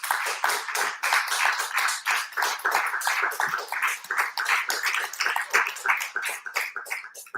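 Audience in a small comedy club claps for a stand-up performer, a dense burst of close hand claps with scattered whoops, steady and lively for several seconds before thinning slightly.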